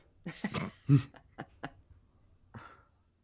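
A few close, harsh coughs and throat-clearing sounds come in quick bursts, then a single softer cough after a short pause.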